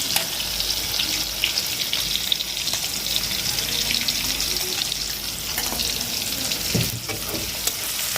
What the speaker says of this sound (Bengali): পেঁয়াজগুলো একটু ভালো ভালো হোক লাল করে ভাজবো